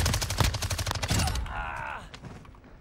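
Gunfire in Call of Duty MW2, a quick volley of sharp shots over the first second and a half, followed by a brief electronic tone and a few scattered impacts.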